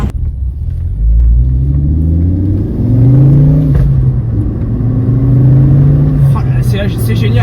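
Ford Focus ST WRC rally car engine revving through repeated gear pulls, a loud, close, throaty rising drone that dips at each shift and then climbs again, with a voice speaking over it.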